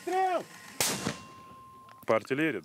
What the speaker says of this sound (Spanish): Los soldados rusos responden con morteros contra las fuerzas ucranianas